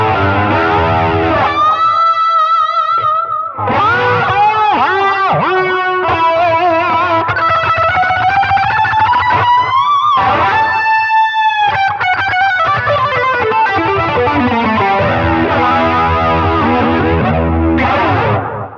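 Electric guitar played through a Line 6 HX Stomp XL with an 80s-style tone, heavily distorted with chorus and echo, sustained lead notes and bends ringing loudly and continuously alone.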